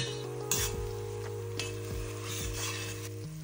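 Sautéed onion and tomato paste sizzle softly in a pan while a utensil stirs and scrapes, steady frying with a few clinks and scrapes, no talk.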